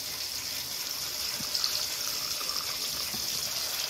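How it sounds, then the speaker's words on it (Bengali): Water is poured into a cooking pan holding ground spices and chili powder, a steady close hissing gush with faint sizzle and a few small knocks, without speech. "আর এখানটা তো হয়ে এসছে, তার মধ্যে আমি একটু জল দিয়ে দিচ্ছি"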